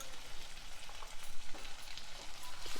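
Small pieces of firm red tomato with turmeric frying in a pan for puffed rice upma, a steady close crackling sizzle, fairly quiet and alone.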